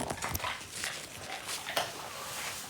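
A pet dog makes a few soft whimpering and whining sounds close by, short uneven cries at a low level with no one talking.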